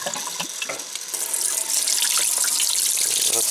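Water is poured in and drained out of a container of sprouting adzuki beans, a continuous rushing stream that starts with scattered splashes and grows louder and steadier.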